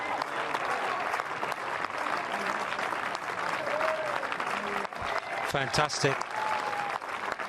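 A Wimbledon Court 3 crowd applauds wheelchair tennis players Reid and Hewitt in sustained, dense clapping, while commentators talk over it and a voice briefly rises toward the end.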